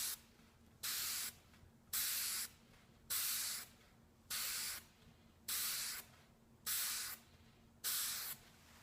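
An airbrush sprays paint along the edge of a 3x5 card used as a stencil, in eight evenly spaced bursts of steady hiss, each about half a second long and close by, with a low hum running underneath.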